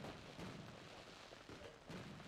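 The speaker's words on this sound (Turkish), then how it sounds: "Havai fişekler atılıyor." Fireworks launch over a Mars colony in the strategy game Surviving Mars, a dense crackling wash with a few louder bursts spaced about a second apart.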